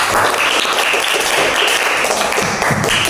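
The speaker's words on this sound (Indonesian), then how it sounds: "Mari kita beri tepuk tangan." A class of sixth-grade students applauds a group presentation, dense clapping that holds steady and fairly loud for a few seconds.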